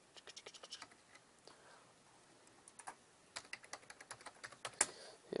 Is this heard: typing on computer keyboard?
yes